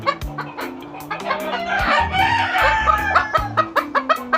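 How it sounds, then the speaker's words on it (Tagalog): Backyard chickens cluck in quick, uneven bursts close by, and a rooster lets out a long crow in the middle, the flock chatter continuing around it. "marami po kaming mga manok."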